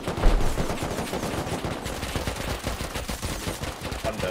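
Rapid sustained M249 machine gun fire in the game Rust, a dense, loud and continuous burst of shots running the whole time with no pause.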